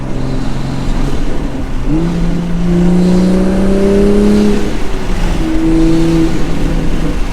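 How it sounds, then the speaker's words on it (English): A Toyota Supra engine revs steadily and loudly, its pitch rising and sliding between gears, with a constant rumbling drone underneath and no talking. "Gosh, this car just sounds so good."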